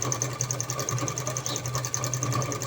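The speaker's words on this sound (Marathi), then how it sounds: "आता मी इथं डबल टिप मारून घेत आहे अशा पद्धतीने" A sewing machine double-stitches a blouse, running in a continuous fast rhythmic whir and tick that is close and steady throughout, with no speech.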